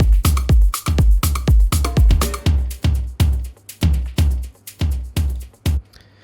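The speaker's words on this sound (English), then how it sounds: "drums sounds like this" Afro house pre-chorus drum pattern, stripped back: punchy kicks and percussive hits in a steady dance rhythm with short gaps between, loud and close, no voices.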